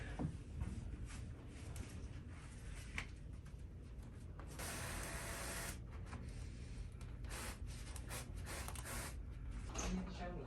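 A pressurized cleaner sprayer cleaning a Mitsubishi mini split air conditioner lets out a broad hiss of spray for about a second and a half midway, with handling noises and rustling before and after.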